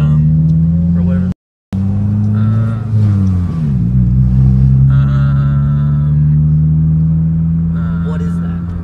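An Audi R8 engine idles roughly while misfiring on three cylinders, giving a steady low, loud rumble with a slight dip in pitch partway through and one brief dropout near the start.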